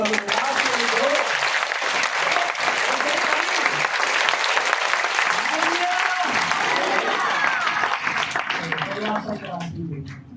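A church congregation applauds loudly and continuously for about ten seconds, with crowd noise mixed in, before the clapping begins to thin out at the end.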